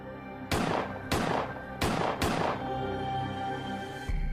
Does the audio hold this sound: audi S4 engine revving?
no